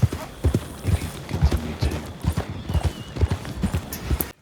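Horse hooves clip-clop at a steady riding pace throughout, close and fairly loud, with an occasional faint snort or whinny in the mix.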